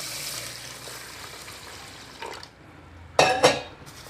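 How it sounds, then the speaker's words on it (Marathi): Mixed lentils being washed in water in a kitchen, with quiet sloshing and swirling, then a couple of louder splashing bursts and a light clink of a vessel near the end. "डाळी एकदम छान धुवून घ्यायच्या आहेत"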